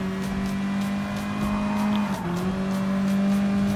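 Mazda Atenza Gr.4 race car in Gran Turismo Sport, its engine a steady, loud drone that dips in pitch midway as it shifts while overtaking, with faint tire scrub underneath.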